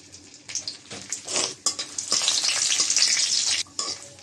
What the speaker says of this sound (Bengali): শুকনো মরিচটা ভাজা হয়েছে।